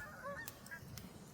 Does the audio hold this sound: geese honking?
yes